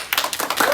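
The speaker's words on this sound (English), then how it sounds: "Please give her a round of applause" A class in a school Veterans Day play gives Miss Perez from the library a quick round of sharp, close claps that is brief and uneven.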